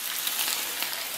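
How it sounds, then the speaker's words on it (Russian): Food sizzling in a frying pan, a steady close hiss with fine crackling pops throughout a short stretch, no voices. "Так, ну пускай жарится"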